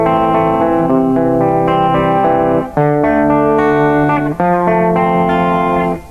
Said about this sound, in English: If you add distortion to those chords, they can start to sound a little bit dissonant.